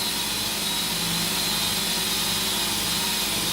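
A Grizzly 2x42 belt grinder motor running at full speed with a fresh 80-grit belt, a steady loud high whine and hum, continuous and close with no talk.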